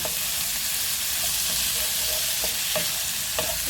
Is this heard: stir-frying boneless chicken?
yes